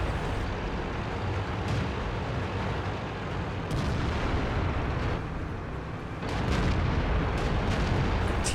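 A dense, continuous rumble of tank cannon fire and explosions fills a World of Tanks battle. Sharper booms break through at intervals, and the whole mix stays loud and close.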